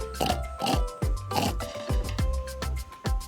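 A pig oinks and snorts in a string of about eight short, close grunts, alone and fairly loud, in a quick uneven rhythm.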